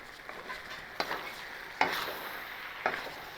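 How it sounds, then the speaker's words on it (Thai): Onion stir-fried in a pan for a chicken farfalle dish gives a steady, soft sizzle broken by three sharp scrapes of the utensil against the pan, close and without talking. "ผัดจนหอมใหญ่สุกนะครับ"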